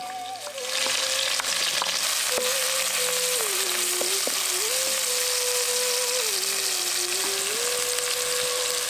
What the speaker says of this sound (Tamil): கொஞ்சம் எண்ணெயை ஊற்றி 2 பட்டை 4 கிராம்பு, நசுக்கி வச்சிருந்த சின்ன வெங்காயம்,